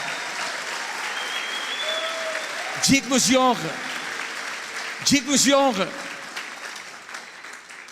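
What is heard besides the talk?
church congregation applause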